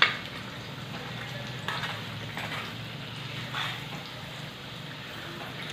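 Besan and milk batter is poured into a hot oil tempering for pithla, giving a continuous soft sizzle and bubbling with faint stirring scrapes, close and steady.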